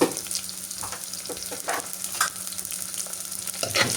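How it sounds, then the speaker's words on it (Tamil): Onions, mustard seeds, curry leaves, garlic and dried fish sizzle steadily in hot oil for a potato curry, a close, continuous frying hiss broken by a few stirring scrapes. "இதில் வந்து நாங்கள் பெரிய வெங்காயம், மாசி, கடுகு, உளுவரிசி, வெள்ளைப்பூடு, கருவேப்பிலை, ரம்பை எல்லாம் போட்டு நல்லா வதக்கிக்கிறோம்"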